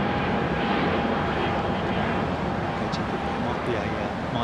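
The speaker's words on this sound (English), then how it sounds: "British Airways taxiing out." A British Airways airliner taxis out at a London airport, its engines making a continuous loud, broad roar that holds level throughout.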